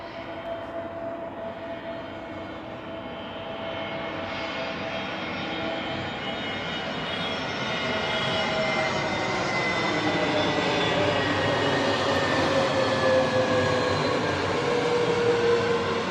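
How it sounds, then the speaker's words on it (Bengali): An airplane passes overhead above a house, its engine roar building steadily and growing louder toward the end as it nears, a continuous broadband drone with no talking. "হ্যাঁ, তুমি ধরে ফেলেছো প্লেনটা আসছে।"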